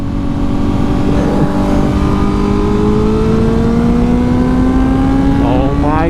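Honda CBR1000RR-R Fireblade SP sport motorcycle revving past 7,000 RPM, a loud continuous engine whine rising steadily in pitch over several seconds, heard close up with heavy wind rush.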